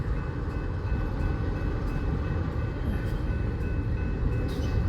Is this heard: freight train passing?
yes